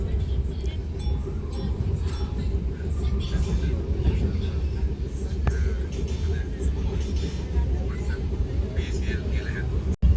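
The Yarl Devi passenger train runs along the rails in Sri Lanka, a steady low rumble and droning hum heard close up and continuous, ending with a sudden sharp knock.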